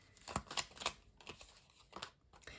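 Tarot cards being shuffled by hand, a series of soft papery riffles and slaps in uneven bursts, close and fairly quiet, with brief pauses between handfuls and no talking.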